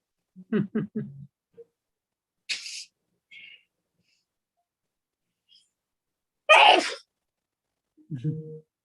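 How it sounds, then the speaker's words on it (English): A single sharp sneeze bursts out during a virtual yoga session, set between brief spoken phrases, with a second explosive sneeze-like burst a few seconds later. "after I sneeze."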